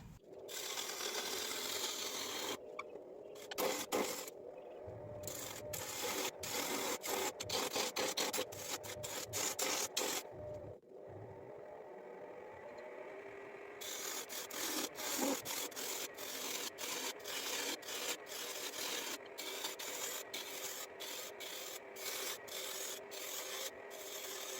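A wood lathe tool cuts a poplar bowl with a steady, rough scraping and shaving hiss that runs nearly the whole time. There are brief pauses and quick ticking catches, close and fairly loud, with no talk.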